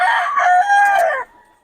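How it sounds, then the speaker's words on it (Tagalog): A rooster crows once, loud and close, in a drawn-out call that breaks off abruptly, followed by near quiet. "Maganda ng manok niya ni Boss Ben."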